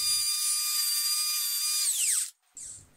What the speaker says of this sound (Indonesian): Setelah itu kita ratakan menggunakan gerinda amplas.